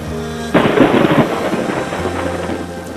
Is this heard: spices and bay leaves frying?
no